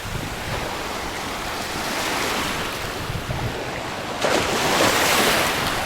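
Atlantic Ocean waves wash against the coast of Mauritania in Africa, a continuous roar of surf mixed with wind buffeting the microphone, swelling louder near the end with no voices.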